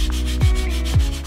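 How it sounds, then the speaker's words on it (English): Sanding of repaired model aircraft floats, glassed and primed after epoxy and lolly-stick splicing: a continuous close abrasive rubbing with two brief swishing strokes, steady and alone. "Then, after some sanding, glassing, priming, etc., we were ready to try again."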